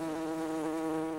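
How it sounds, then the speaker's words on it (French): Bees or wild bumblebees buzz steadily around apple blossoms in an orchard, a close, continuous drone with no voices. "Les insectes pollinisateurs, tels que les abeilles ou les bourdons sauvages, participent à la fécondation des fleurs de pommier."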